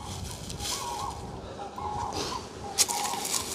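Distant cranes call out in a few bursts over a steady, windy outdoor hiss, with a sharper cry near the end.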